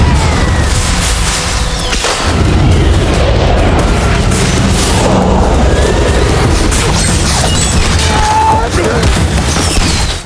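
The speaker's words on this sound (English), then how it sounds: "the sound of firecrackers rings out in the alley" Firecrackers burst in an alley as a dense, loud barrage of bangs and crackles that rolls on without a break, overlaid with a busy, noisy scene.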